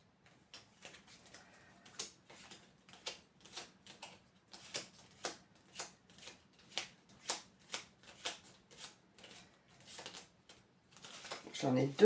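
Oracle card deck shuffled by hand at close range, a steady run of about twenty crisp riffling bursts roughly every half second, with a low hum underneath and a louder rustle at the end.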